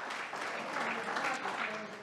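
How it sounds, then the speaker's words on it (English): An audience applauds in a steady, dense wash of clapping that holds at an even level for the whole stretch. "we can certainly give them a round of applause"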